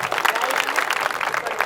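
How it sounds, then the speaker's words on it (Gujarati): An audience claps at a 1992 batch high school reunion, a lively, dense patter of hands at moderate volume, with voices mixed in beneath it. "આજે જોરથી તાળી વાગવી જોઈએ."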